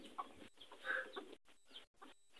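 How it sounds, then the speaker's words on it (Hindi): A rooster clucks in a few short, soft bursts outdoors, faint and somewhat distant, with brief gaps of quiet between the calls. "मुर्गा वगैरह।"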